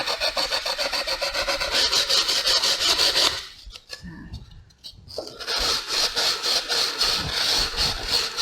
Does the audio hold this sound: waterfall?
no